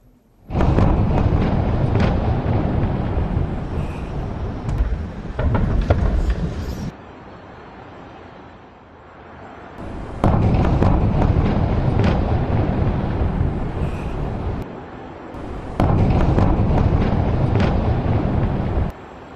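Loud, heavy blasts and rumbling from strikes on Beirut, coming in three long bursts of booming, roaring noise broken by quieter stretches of wind-buffeted background.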